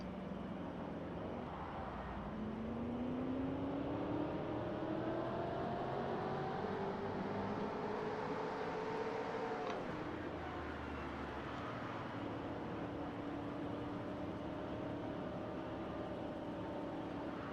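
A 1990s-style stock car engine in a NASCAR racing game drones steadily, its pitch climbing and falling through gear changes and holding constant and fairly loud throughout.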